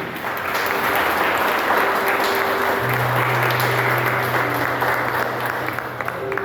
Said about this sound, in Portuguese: Você pode aplaudir a Deus por isso, irmão?